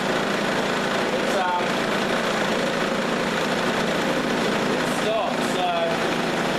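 An old lathe motor runs steadily after giving off a puff of smoke, a continuous mid-level hum and whir with faint squeaks, with no one talking.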